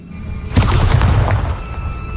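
A Bombarda spell exploding in Hogwarts Legacy, a single deep, loud boom that lingers as a rumbling tail, with faint crackling debris after the blast.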